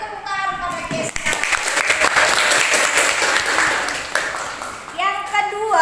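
Classroom applause for a student named Keisha: a burst of many hands clapping fills the middle of the clip, with children's voices talking and calling out at the start and end.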